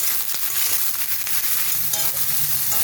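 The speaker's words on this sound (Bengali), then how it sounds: "আমি ওই সোয়াবিন দিয়ে তিনটাকে মিক্স করে ভালো করে একটু ভেজে নেব" Potato, soybean and onion frying in a pan give a loud, close, continuous hiss and crackle of hot oil, with soft stirring scrapes running through it.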